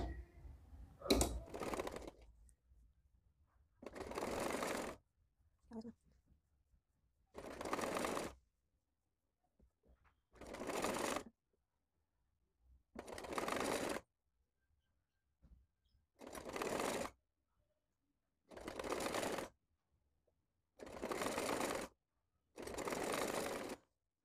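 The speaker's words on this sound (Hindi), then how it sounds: "अब इसके ऊपर एक पैर के गैप में सिलाई लगाएंगे" Sewing machine stitching a piping strip onto a frock, running in about eight short, evenly spaced bursts of rapid clatter separated by silent gaps.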